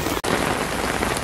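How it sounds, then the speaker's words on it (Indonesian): Heavy rain pours steadily in Hong Kong during the Mid-Autumn Festival, a dense, loud hiss of drops on surfaces with a brief dropout near the start. "Tiba-tiba tuh hujan deras banget ini."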